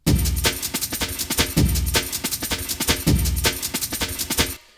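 Pitched-up and pitched-down drum breaks play layered together through an Amiga sampler for an 8-bit sound, booming low kicks under crisp, busy snares and hats, looping about three times, loud and alone before stopping.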